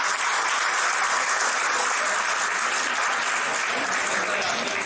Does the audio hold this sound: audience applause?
yes